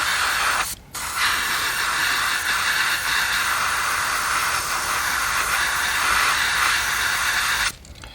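An airbrush sprays paint in a loud, steady close hiss, with a short break near the start and the spray cutting off just before the end.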